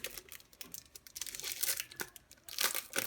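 A comic book package being opened, with close, continuous plastic crinkling and tearing that swells louder near the end, and no voices.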